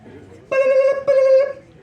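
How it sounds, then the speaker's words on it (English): A telephone call effect in a comedy bit sounds as two long, loud, even electronic ring tones, back to back, each lasting about half a second, over faint background murmur. "Picture the Scream phone call might go something like this."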